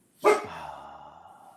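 A dog lets out a single sharp, close bark that rings briefly with a tonal tail, alone in an otherwise quiet room.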